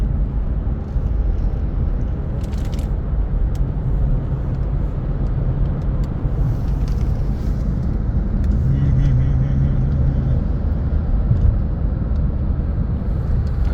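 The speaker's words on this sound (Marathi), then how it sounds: "अरे तुफान चालवतात इकडे लोक गाड्या" Cars roar past in a continuous, echoing rumble, engines droning steadily as traffic speeds through a highway road tunnel, with a voice faintly underneath.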